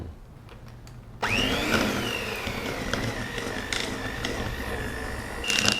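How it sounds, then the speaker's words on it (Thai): An electric mixer beating cream cheese with icing sugar for cheese tarts switches on after a quiet second and whirs steadily at low speed, its pitch dipping slightly as it churns, with a small clatter near the end. "ผสมกับน้ำตาลไอซิ่งตีส่วนผสมนี้ให้เข้ากัน"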